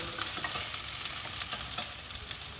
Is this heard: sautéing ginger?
yes